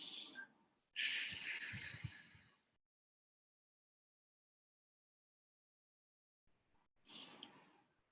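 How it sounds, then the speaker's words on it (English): Deep breaths drawn in and released during a segmental breathing exercise in physiotherapy for Covid-19 care: a short breath, then a longer forceful exhale, a long silence, and another audible breath, close and clear. "once we take a deep breath and we try to release it, we put the pressure inward and upward, like this as we release"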